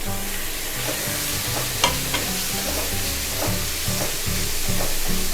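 Chopped tomatoes fry in a pan for rava kichadi, with a steady close sizzle and scraping stirs throughout. No voices are heard.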